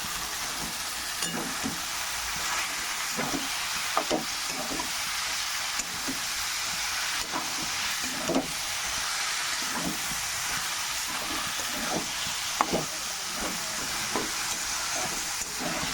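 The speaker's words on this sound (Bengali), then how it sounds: "এখন এই যে সিদ্ধ করে রাখা বাঁধাকপিটা আমি জল ছেঁকে রেখেছিলাম, এটা দিয়ে দেবো।" Boiled, drained cabbage sizzles in a frying pan with prawns, a steady close hiss of frying with repeated soft stirring knocks and scrapes throughout, no talk.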